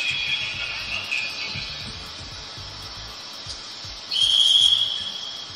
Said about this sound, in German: dann die Pfeife und der Zug fährt ab